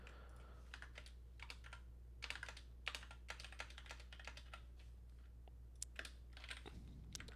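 Quick bursts of keystrokes on a computer keyboard, close and quiet, uneven clusters of taps with short pauses, no speech.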